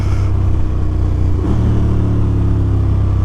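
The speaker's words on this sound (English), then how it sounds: "KTM 1290 Super Adventure S 2021." A 2021 KTM 1290 Super Adventure S motorcycle engine runs nearby with a steady deep rumble that rises slightly in pitch midway, loud and continuous with no voices.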